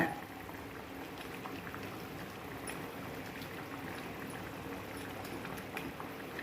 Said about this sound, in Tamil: குழம்பு நல்லா கட்டியாக கொதித்து வந்துட்டுங்க